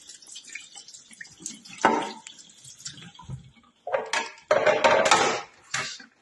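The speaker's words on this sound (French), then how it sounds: "on peut rincer chaque partie de la machine, comme ça directement à l'eau claire." Coffee machine parts rinsed under running clean water: splashing and trickling bursts mixed with light clinks of plastic and metal pieces, close and fairly quiet, with gaps between the rinses.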